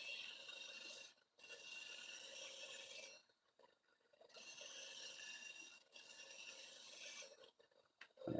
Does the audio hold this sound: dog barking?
no